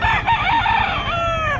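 Rooster crowing at a busy Bocaue pet market, one long, loud, close call with strong wavering harmonics that holds steady and trails off, with muffled market bustle underneath.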